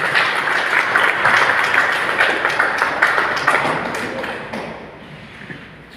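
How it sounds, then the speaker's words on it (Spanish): Strong audience applause at an anniversary ceremony in Jalcocotán, Nayarit, a dense burst of many hands clapping that gradually thins and fades over about six seconds. "Recibámoslo con un fuerte aplauso"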